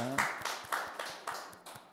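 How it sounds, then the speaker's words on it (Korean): Congregation clapping at a Friday evening church worship service, a steady run of sharp, fairly regular claps at moderate loudness with no voices over them. "하나님께 영광의 박수 올려드리겠습니다"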